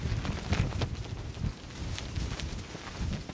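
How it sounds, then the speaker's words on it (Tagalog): Strong wind at Estanza Beach, gusting hard against the microphone in uneven low, rumbling buffets that swell and ease without a break. "Grabing hangin."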